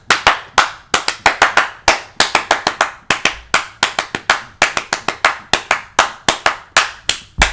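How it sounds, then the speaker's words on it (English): A single person clapping hands in a steady run of sharp, close, loud claps, mostly evenly spaced with brief pauses, no other sound around them. "Clap."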